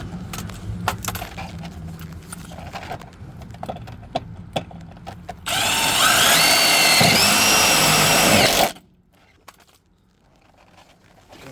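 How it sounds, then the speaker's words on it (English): Light tapping and clinking for several seconds, then a power drill whirs loudly and steadily for about three seconds, drilling a hole while installing side skirts on a Honda Fit, before stopping abruptly, leaving near silence. "Send it with the drill."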